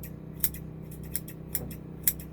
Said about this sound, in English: Then I'm going to cut in this,